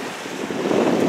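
Strong wind buffets the microphone outdoors in snowy, cold conditions, a loud continuous low rumble that builds slightly over the short moment, with no speech.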